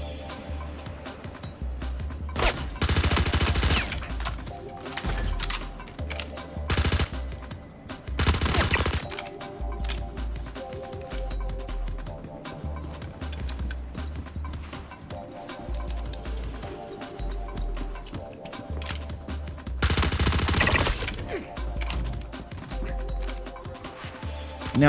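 Behring P4-AR rifle firing at NPCs in the Star Citizen video game, with loud bursts and sustained rapid gunfire through a busy, dense game soundscape.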